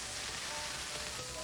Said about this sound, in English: Beef sizzling with flavor, dripping with juiciness.